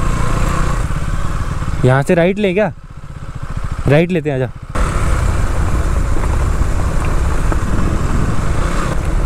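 Motorbikes ride off-road along a narrow jungle track, their engines droning steadily up close for the whole stretch, while riders speak briefly over the noise.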